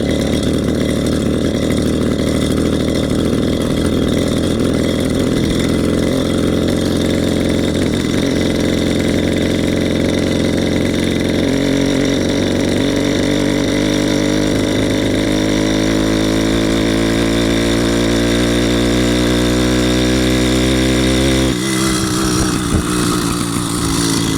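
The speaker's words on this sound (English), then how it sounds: "until the motor fires up, and then I'll reach back and flick the valve on." A small two-stroke engine on a motorized bicycle runs loudly and steadily throughout, its pitch climbing as it revs before shifting near the end; the carburetor is leaking and the engine had flooded.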